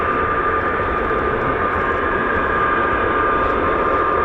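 An F-35A fighter jet with a Pratt & Whitney F135-100 turbofan engine roars in a loud, continuous, broadband rush with a steady whine, unbroken throughout with no talking.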